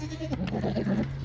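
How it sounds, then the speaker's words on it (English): Big white goats bleat close by in a farm pen, a short burst of overlapping wavering cries lasting just over a second. "Stay in, you big white goats."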